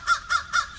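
Three loud, harsh caws from a crow in quick, evenly spaced succession, close and clear against a quiet background.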